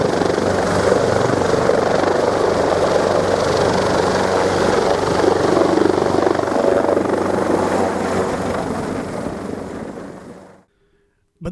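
A rescue helicopter thunders close and loud, its rotor chop and engine roar steady for about ten seconds before cutting off abruptly into silence.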